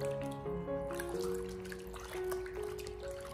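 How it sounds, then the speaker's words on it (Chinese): Squid rinsed by hand in a basin of clean water, soft sloshing and dripping with faint splashes, quiet and close. "接着再重新的添加清水，再一次的给它清洗一下，把鱿鱼身上的一些脏东西彻底的清洗下来"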